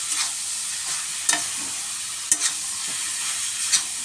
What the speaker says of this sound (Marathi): आता मी याला असा मिक्स करून घेणार आहे.